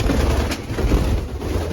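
Racing pigeons in a loft give a soft, low, continuous cooing murmur over a steady background hum, with no voices.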